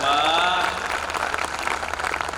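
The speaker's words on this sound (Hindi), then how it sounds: "पीछे तक के लोगों की बड़ी तालियां देखना चाहता हूँ" Crowd applause at a Hindi poetry gathering, a kavi sammelan at a bank's silver jubilee, breaks out loud and sustained, a wide wash of clapping with a brief tonal trail of voice at the start.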